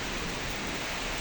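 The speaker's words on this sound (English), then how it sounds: "Oh, that was a crazy rain." Heavy rain during a thunderstorm pours down in a dense, steady hiss, loud and unbroken for a brief moment with no voices.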